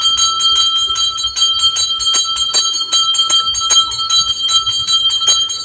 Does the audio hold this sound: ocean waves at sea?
no